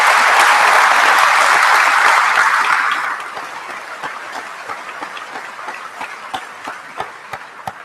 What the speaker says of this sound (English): Can you please give a huge warm applause for these people?